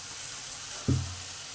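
A ground paste of tomato, ginger, cumin and whole red chilli hits a hot pan with potatoes for a fish curry and flares into a sudden loud sizzle that settles into a softer hiss.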